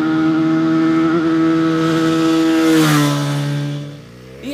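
A large motorcycle engine hums steadily and fairly loud, its pitch rising slightly and then dropping away as the revs fall near the end, with no talking.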